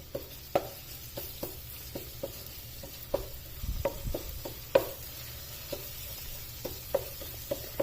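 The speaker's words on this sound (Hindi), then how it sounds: "अब लहसुन और अदरक के पेस्ट को इसमें 2 मिनट तक फ्राई होने देना है" Garlic ginger paste with green chilli fries in oil with mutton for a jalfrezi, a faint soft sizzle broken by regular sharp taps and scrapes of a spoon stirring against the pot, no talking.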